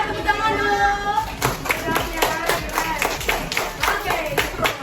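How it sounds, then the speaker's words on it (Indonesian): Brief voices give way to a burst of quick, uneven clapping from several third-grade children in an elementary classroom, lasting a few seconds and fairly loud. "Bagus ya, tepuk tangan dulu."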